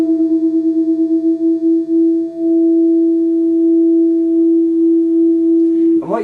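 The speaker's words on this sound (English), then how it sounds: "what you'll hear is that the wobbling goes from being really fast to really slow" Two guitar strings ring together while one is tuned up to pitch, giving a steady tone whose beating wobble slows until it nearly disappears, clear and close, followed by a brief pluck at the end.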